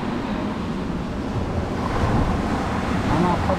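Strong surf breaks on a beach in Cebu, a steady, loud wash of waves with wind noise, building slightly toward the end, with no voices.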